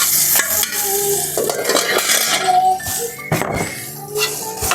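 Cashew nuts frying in hot fat for a pot of ada pradhaman, a continuous sizzle broken by a spoon stirring and clinking against the metal pan, close and busy.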